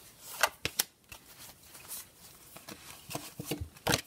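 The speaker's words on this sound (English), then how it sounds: "So a couple of cards are already poking out. I'm just going to continue shuffling." A deck of oracle cards is shuffled by hand at close range on a desk, giving a run of soft papery riffles and sharp flicks with brief pauses, heard alone without talk.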